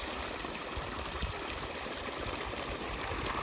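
Creek water flows through a double culvert beside a pasture bridge after rain, a close, steady rushing and gurgling wash that fills the whole moment without pause or voices.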